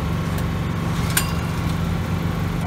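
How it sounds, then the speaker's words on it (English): Generator converted to run on cooking gas without its petrol tank, humming steadily and loudly up close with a constant low drone for the whole short stretch. "here the generator comes on"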